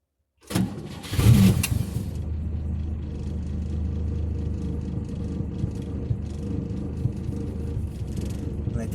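A 1958 AMC Rambler Super engine cranks and catches with a loud burst, then settles into a steady, close rumbling idle that continues alone to the end.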